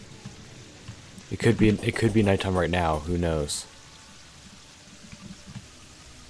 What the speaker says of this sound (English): Oh no, it's raining.